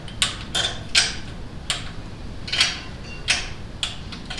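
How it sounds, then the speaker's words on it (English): A torque wrench ratchets on bolts of a 1996 Ford F-150 in a series of sharp, close clicks at irregular intervals over a low steady background. "Now let me get my torque wrench. And then we can torque this guy down."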